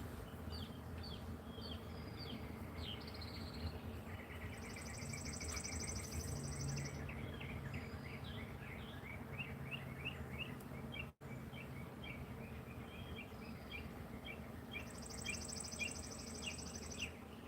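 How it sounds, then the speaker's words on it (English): Birds chirp outdoors at dawn in a yard, small repeated tweets and short trills, faint and distant over a steady air conditioner hum, with no talking. "do you guys want to listen to the birds and the air conditioner?"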